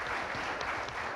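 Steady clapping from a TV studio audience fills the whole moment, a dense even patter of many hands without pause.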